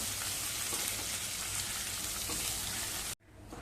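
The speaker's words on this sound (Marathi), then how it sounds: "आता आपण चिरून घेतलेला कांदा घालूया कांदा छान सोनेरी रंगावरती तेलावरती चांगला परतवून घ्यायचा आहे" Chopped onion frying in hot oil gives a dense, steady, close sizzle that cuts off abruptly just before the end.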